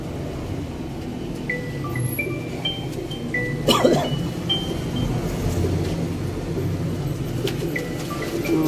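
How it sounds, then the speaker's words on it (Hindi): Sialkoti red-pearl pigeons coo softly and intermittently over a steady low hum of background noise, with a brief louder rustle midway. "वड्डे वजूद दे दोस्तों प्योरिटी सियालकोटी लाल मोतियां वाले कबूतर ने"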